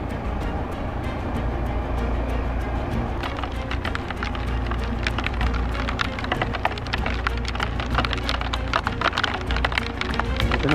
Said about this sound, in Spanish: Ahora se pone a llover.